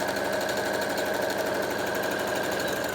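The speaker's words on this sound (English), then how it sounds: "So again, forward and backwards to lock in our stitches." A sewing machine stitches a cushion cover seam forward and then in reverse to lock the stitches, a steady, close, continuous mechanical whir with fine rapid ticking, running alone throughout.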